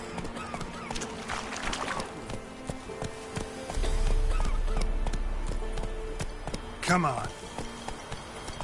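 Roach, a horse in The Witcher 3 game, gallops with a soft steady hoof rhythm under game music and ambience, while someone talks over it.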